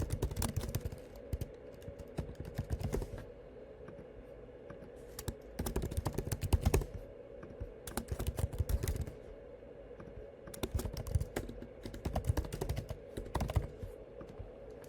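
Keyboard typing in quick bursts of clicks separated by short pauses, close and fairly quiet, with no voices.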